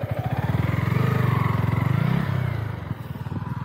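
A motorcycle engine runs during stoppie stunt practice, its rapid pulsing putter steady and close, then dipping briefly near the end before resuming, with no voices over it.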